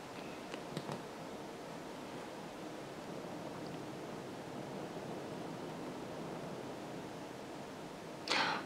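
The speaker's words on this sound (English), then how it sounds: "I don't know if you can hear the wind outside." A strong gale blows outside a house, heard indoors as a faint, steady broadband rush with no clear gusts and one brief rustle at the end.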